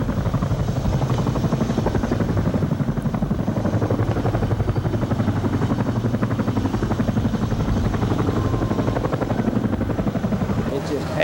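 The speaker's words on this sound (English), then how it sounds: "a chopper dousing the last hot spots" A helicopter hovers over the fire-gutted topside of an Air Force base structure, dousing the last hot spots; its steady rotor chop and engine roar run loud and continuous throughout.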